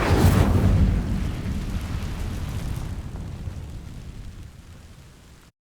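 Fire spell igniting dry vines in the Hogwarts Legacy video game, a loud whooshing burst of flame at the start that rumbles and slowly fades away over several seconds.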